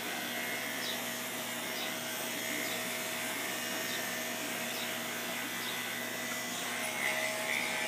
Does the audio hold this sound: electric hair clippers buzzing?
yes